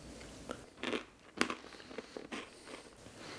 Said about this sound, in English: Kind of good contrast in the crunchiness of the nuts and more the flaky crunchiness of the pretzels